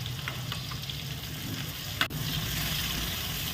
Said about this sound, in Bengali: এবার ওই তেলের মধ্যেই আমি একটা তেজপাতা দিয়ে দিচ্ছি, আর দিয়ে দিচ্ছি পেঁয়াজ কুচি।